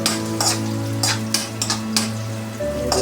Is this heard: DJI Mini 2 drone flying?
no